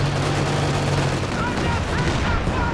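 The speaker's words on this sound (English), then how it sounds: "Katyusha's coming down" Katyusha rocket barrage in Company of Heroes 2, a dense continuous roar of launches and explosions with rumbling booms filling the whole stretch, loud and close, with a voice talking over it.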